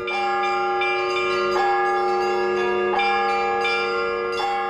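Russian Orthodox church bells ring out in a dense, clanging peal, with new strikes every second or so over a steady ringing drone, loud and close, with no voices.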